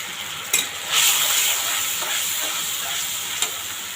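Tomato, ginger-garlic paste and ground spices frying and being stirred for a pangas fish curry, a steady close hiss and sizzle with a few soft scraping knocks of the spoon.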